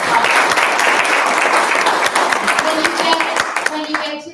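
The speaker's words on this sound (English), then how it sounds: "I want to just give them a round of applause" A room of people at a company roadshow claps for diamond-rank members, dense steady applause that thins toward the end, with a voice starting to speak over the last few claps.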